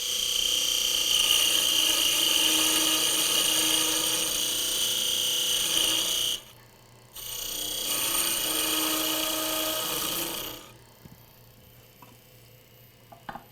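Wood lathe spinning a round blank while a parting tool cuts in, a steady high-pitched whine and buzzing scrape that drops out briefly, resumes, then stops, leaving the motor's low hum.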